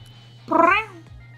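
Kitten in Ghost Trick, a single short rising-then-falling meow, close and clear over a low steady hum.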